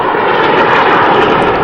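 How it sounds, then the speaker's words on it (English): A V-22 Osprey tiltrotor flies in airplane mode as a turboprop, giving a loud, continuous broadband engine roar that stays steady and fills the whole of the short stretch. "it takes only 12 seconds for it to convert from hover to full-flying turboprop airplane"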